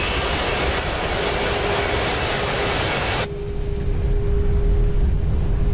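An Airbus A320 in Flight Simulator X roars with engine reverse thrust on the landing rollout, a loud steady broadband rush that cuts sharply to a quieter, lower hum as reverse is cancelled.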